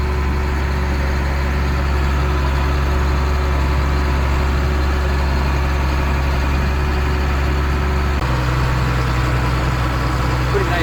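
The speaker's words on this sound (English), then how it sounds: "Nice old school tractor." A John Deere-style 7290R tractor with a 15-speed power shift runs steadily, a loud, constant low engine drone that shifts slightly in pitch partway through, with no break.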